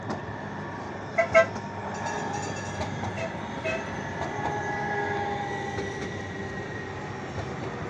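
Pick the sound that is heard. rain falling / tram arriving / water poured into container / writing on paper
tram arriving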